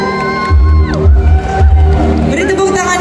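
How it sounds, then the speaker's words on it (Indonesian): A studio audience at an Indonesian TV talk show cheers and whoops in loud bursts over heavy low thumping music, with an announcer's voice cutting through. "Beri tepuk tangan yang meriah."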